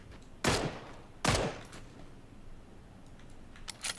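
Two loud, sharp gunshots about a second apart in PUBG (Playerunknown's Battlegrounds), followed by a few fainter distant shots near the end, with no talking.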